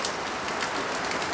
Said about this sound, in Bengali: দেখতে পাচ্ছেন যে তিনের চালে ঝন বৃষ্টি হচ্ছে